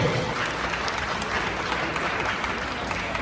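Sustained, dense applause from a crowd at a dinner gathering honouring a New Patriotic Party parliamentary candidate, an even roar of many hands clapping that holds steady throughout.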